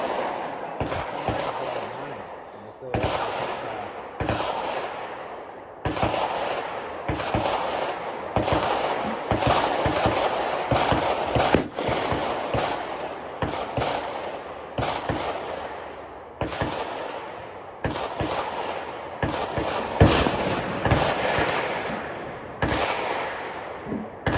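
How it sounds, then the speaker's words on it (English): Guns fire at a lower shooting range, with many sharp reports in irregular bursts and single shots over a steady outdoor background. "those are people down at the lower range shooting"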